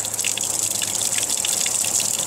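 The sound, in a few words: water seeping out of a crack in dry rock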